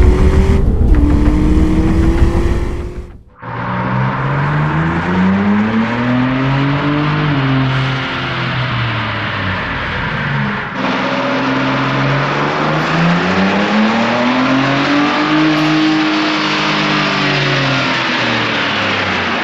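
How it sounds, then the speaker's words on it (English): A 2022 Ford Bronco Raptor's engine revs hard on a dyno at a shop, loud, sustained rising and falling engine pulls filling the whole stretch with no talk, briefly dropping away near the start before winding up again. "This time we've got our 2022 Bronco Raptor on the dyno. We'll be getting some baseline runs"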